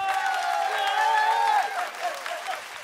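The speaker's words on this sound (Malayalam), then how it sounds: "നിങ്ങൾ നല്ലൊരു കൈയടി കൊടുത്തേ നമ്മുടെ അഖിലിന്" Studio audience applauds a contestant on a Malayalam comedy competition show, a steady wash of clapping with a held musical tone over it that fades slightly near the end.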